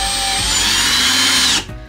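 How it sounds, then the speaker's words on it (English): A power drill drives a screw into cabinet wood, a loud steady whirring motor whine lasting about a second and a half before it cuts off abruptly. "And then just press it in before I drill it."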